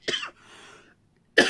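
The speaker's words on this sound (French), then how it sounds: "Excusez-moi si je tousse" A single sharp cough, then a softer breathy exhale and a brief pause before another cough bursts out at the end, close and clear.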